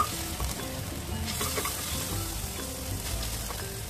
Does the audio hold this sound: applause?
no